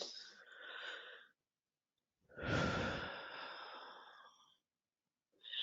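During a guided forgiveness session, a person takes slow, audible breaths up close: a soft exhale, a pause of silence, then a longer, deeper sighing breath and the start of another.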